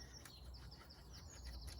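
Faint birdsong outdoors: scattered high chirps and tweets over a very quiet background.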